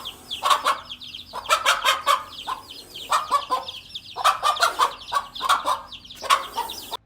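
A mother hen clucks repeatedly in rhythmic bursts while guiding her chicks away from a snake, the calls close and fairly loud with short pauses between groups.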